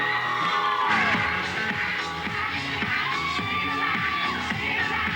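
A game show studio audience, mostly women, screams and cheers continuously as a male fireman entertainer is introduced, with loud crowd noise sustained over music throughout.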